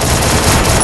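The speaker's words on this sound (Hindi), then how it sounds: "चलो अच्छा शॉट।" Rapid automatic gunfire in the Free Fire battle royale game, a loud, dense burst of shots packed together with no gaps.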